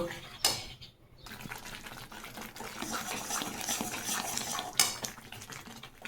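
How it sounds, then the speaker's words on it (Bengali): A spoon stirs a thick mixture of milk, raisins, dates and sugar in a pan, giving steady scraping and soft clinks over a low bubbling simmer, close and continuous with a short pause early on. "এবার এটাকে আমি নাড়ব নেড়ে নেড়ে এটাকে শুকিয়ে নেব"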